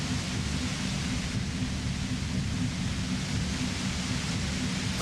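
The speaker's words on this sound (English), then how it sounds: "The violet white noise becomes even more overwhelming closer to the compressor." Dense, overwhelming noise swells near the compressor in Disco Elysium, a steady roar packed with low rumble, broad hiss and a faint hum, holding loud and unbroken throughout.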